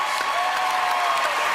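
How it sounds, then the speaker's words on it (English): Steady audience applause fills a television magic show studio after a card trick, dense and continuous clapping with light crowd noise throughout. "Give these guys a round of applause."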